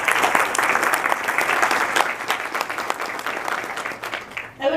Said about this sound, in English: Would you please join me in giving them a round of applause?